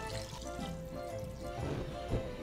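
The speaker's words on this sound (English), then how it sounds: "Now cover it with water" Water poured into a pot over cuts of beef and a marrow bone for pastina soup, a soft, continuous splashing and gurgling fill, fairly quiet and close, with no one speaking.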